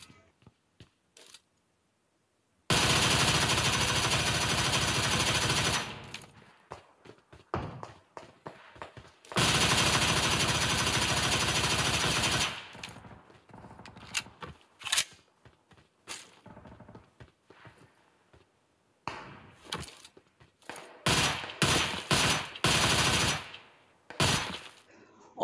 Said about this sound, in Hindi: मुझे गन के नाम पे ये स्कॉर्पियन मिल जाती है, तो इसी से चलो।